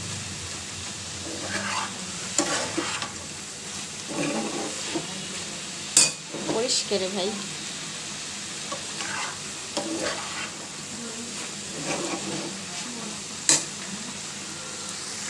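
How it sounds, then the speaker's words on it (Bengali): Onions and green chilies fry with meat over a low flame, giving a steady sizzle with repeated stirring scrapes and sharp metallic clinks of a spoon on the pot; a voice speaks briefly. "দিয়ে এইগুলো মাংসের সঙ্গে আমি একটু ভেজে নেব ভালো করে"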